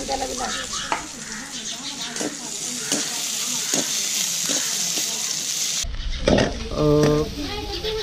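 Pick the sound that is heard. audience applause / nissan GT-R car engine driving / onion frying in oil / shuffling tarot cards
onion frying in oil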